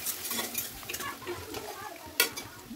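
Onions and spices being stirred in an oiled kadai for chicken curry, a utensil scraping and clinking against the metal over a faint sizzle, with one sharper knock near the end.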